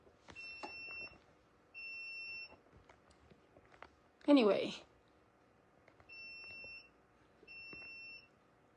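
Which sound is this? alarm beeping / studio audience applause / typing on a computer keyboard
alarm beeping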